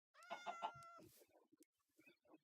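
A cat in the video game Minecraft meows three times in quick succession, clear and close, followed by softer scattered game sounds and short clicks.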